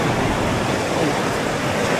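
Sea waves washing onto the beach at Agno, Pangasinan, a steady loud broadband rush of surf with wind noise, continuous throughout.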